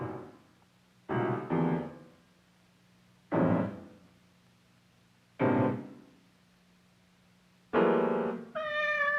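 A cat meows four times in separate, fairly loud calls spaced a couple of seconds apart, and the last one is higher and more drawn out, over a quiet background hum.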